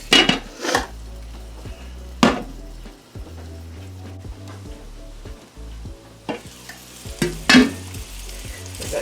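Meatballs brown in a frying pan with a steady sizzle, broken by sharp clinks and scrapes as a utensil stirs and turns them against the pan.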